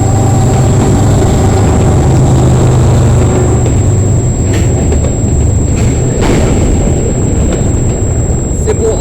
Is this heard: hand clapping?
no